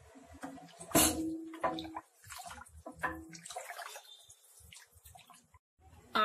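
Water splashing and pouring into a pot of rice for chicken biryani, with irregular sloshing, clinks and drips over a few seconds before a louder burst at the end.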